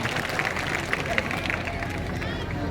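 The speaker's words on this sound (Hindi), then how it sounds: "अब बजाओ ताली।" A crowd of village children clapping together on cue at a gathering in Haridwar, a soft, fairly distant patter of many hands with light murmuring voices mixed in.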